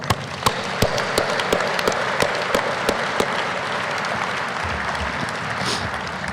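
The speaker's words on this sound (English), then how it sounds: "Please join me in a round of applause for our previous TRANSCOM CSELs." Steady, dense applause from a large audience at a U.S. Navy Fleet Master Chief's retirement ceremony, with crisp individual claps standing out in a continuous wash that stays even throughout.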